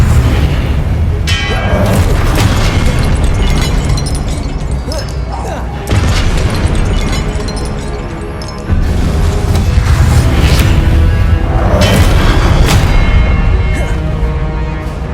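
Confringo spell explosions in the game Hogwarts Legacy, loud booming blasts that crash out one after another over a dense, roaring battle din, with a voice calling out spells between them.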